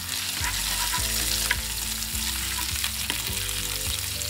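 Curry leaves sizzle and crackle in hot oil while frying for a Kerala-style chicken cheriyulli roast, a steady close frying hiss with repeated stirring scrapes and no talking.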